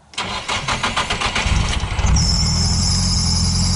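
A roughly 300-horsepower car engine cranks with a quick run of rhythmic starter pulses, then catches and settles into a loud, steady idle, heard up close with no talking.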